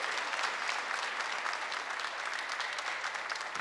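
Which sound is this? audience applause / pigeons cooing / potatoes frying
audience applause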